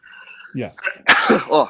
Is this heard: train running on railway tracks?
no